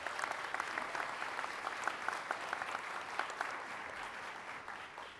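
An audience at a government press event claps in sustained, dense applause. Individual claps stand out over the steady wash, and the sound fades slightly toward the end.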